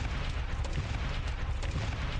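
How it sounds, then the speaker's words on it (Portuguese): Grenade launcher explosions in a shooter game, a continuous dense rumble of overlapping blasts and booms with heavy low end, steady and loud throughout with no talking. "Lança granadas. Vamos lançar granadas até uma hora"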